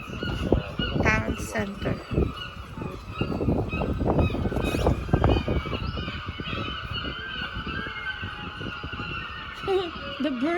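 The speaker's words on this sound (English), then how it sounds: "The birds are so noisy." Noisy birds honk and call over and over in Lerwick town centre in Shetland. Loud, harsh cries fill the street air against a steady urban background, and a voice is heard briefly.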